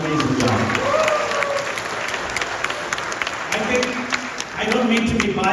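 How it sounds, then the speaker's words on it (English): An audience applauds at a film screening, with steady dense clapping filling the room throughout, loud and sustained, and some voices and cheering mixed in amid the crowd. "Give him a big round of applause."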